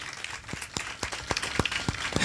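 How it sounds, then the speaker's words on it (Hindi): Applause at an evening spiritual awakening gathering of a village church congregation in Chhattisgarh, India: a steady wash of many hands clapping with sharper individual claps standing out, moderately close and continuous throughout. "जोरदार ताली बजाएंगे।"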